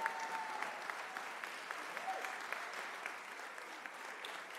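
Audience applauding award recipients at a Black History Month celebration and Poindexter awards, a steady round of many hands clapping at moderate volume, with a few voices and cheers rising faintly through it.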